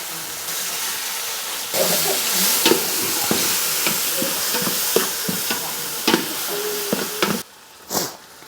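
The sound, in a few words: tomatoes sautéing with onion and spices for biryani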